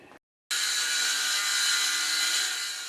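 A power saw cuts wood along a clamp-free saw guide backed with sandpaper. After a short silence it starts abruptly, then holds a loud, steady, whining cut to the end.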